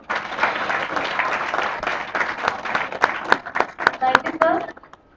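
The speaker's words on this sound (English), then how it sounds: "with a huge round of applause." Applause from a conference audience at a live-streamed event, dense steady clapping that thins toward the end into a few louder, separate claps before fading out.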